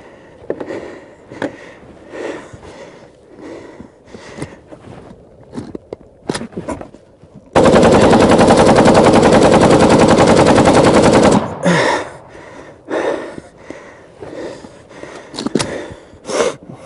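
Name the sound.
Kalashnikov rifle automatic gunfire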